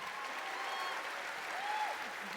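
A crowd at a TwitchCon 2017 cosplay contest applauds the judges' panel, a dense, even wash of clapping and cheering that holds steady throughout.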